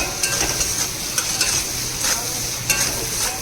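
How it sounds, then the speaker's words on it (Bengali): Fish frying in a pan with a little salt and turmeric, a steady broadband sizzle with a few sharp spatter pops and occasional stirring scrapes, close and continuous, no voices. "মাছটা ভাজতে আমি একটু নুন দিয়ে দিলাম"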